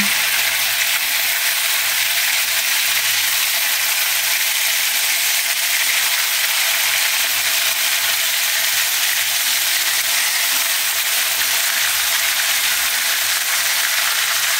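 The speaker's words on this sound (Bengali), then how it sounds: "মাংসটা যতক্ষণ না পর্যন্ত একটু লাল লাল হয়ে আসছে ততক্ষণ মাংসটাকে আমরা ভাজব।" Chicken pieces frying in hot oil in a pan, a steady bright sizzle and hiss that holds evenly throughout, close and loud, with no voices.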